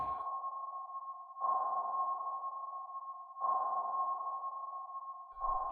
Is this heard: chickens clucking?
no